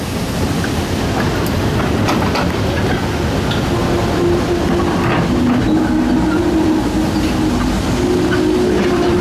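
Scrap locomotives pass on the Appleby Frodingham Railway, a steady loud rumble of rolling stock with wheel noise and a faint squealing tone partway through, close by and continuous.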